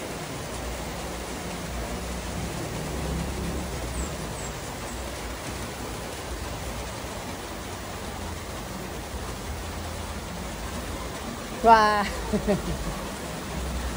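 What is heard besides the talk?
rain falling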